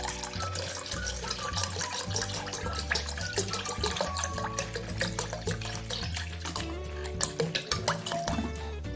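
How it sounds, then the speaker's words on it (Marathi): Cold water drips and trickles into a bowl of curd over steady background music, with soft splashing throughout. "आता यामध्ये आपल्याला थंड पाणी टाकून घ्यायचे आहे"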